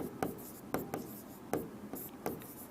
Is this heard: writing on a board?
yes